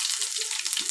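Garlic and chillies sizzle steadily in a hot pan while fenugreek seeds fry nearby, a dense continuous crackle heard up close with no pauses.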